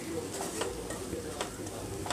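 Stuffed brinjal masala frying on low flame in a pan, stirred gently with a spoon, a faint steady sizzle with soft scraping strokes.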